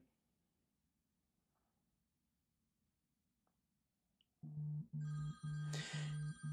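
A phone rings with an incoming call, its electronic ringtone bursting in loudly after several seconds of near silence and repeating in short pulses.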